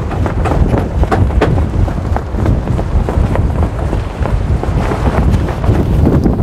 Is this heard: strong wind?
yes